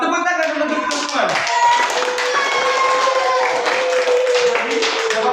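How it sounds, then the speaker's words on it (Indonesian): Children in a classroom clap their hands together in a quick, busy patter while voices carry over the clapping. "Tepuk tangan dulu untuk teman-teman."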